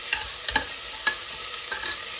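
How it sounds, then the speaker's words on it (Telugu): Ginger garlic paste with spices frying in a pan, a steady soft sizzle broken by a few sharp stirring scrapes spread through the moment, close and moderately loud. "ప్రాపర్గా వేయించుకోవాలి"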